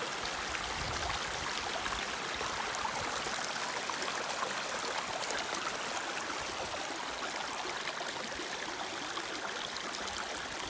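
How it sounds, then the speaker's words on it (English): A small creek flows steadily nearby, a continuous bright rush and trickle of water with no other sounds. "Little creek on my base camp."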